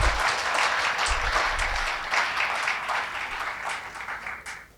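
An audience claps for the organisers at a teacher award presentation ceremony, giving a loud, dense burst of applause that holds steady, then thins and fades toward the end, with a faint voice or two mixed in.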